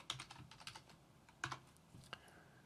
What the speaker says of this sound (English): And type in my password.